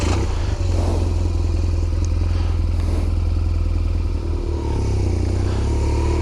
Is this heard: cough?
no